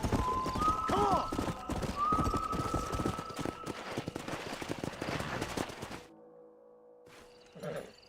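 Horses gallop in the Red Dead Redemption video game, a rapid clip-clop of hooves with a whinny early on, under game music and ambience before the sound drops away near the end.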